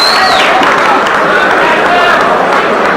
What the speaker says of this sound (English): How about a round of applause for Fast Eddie